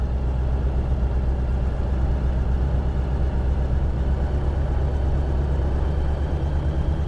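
The engine of a Sinus 912 motor glider runs steadily at rising revs toward 2500 RPM, a loud continuous low drone with no pauses.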